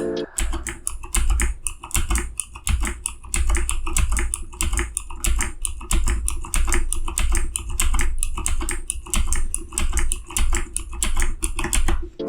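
Rapid, continuous tapping on a computer keyboard as arrow keys are pressed over and over, crisp and close, in an even rhythm of clicks with no speech.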